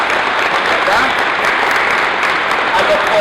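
Continuous crowd applause at a national community culture gathering, a loud dense clapping wash filling the whole stretch, with a voice faintly present underneath.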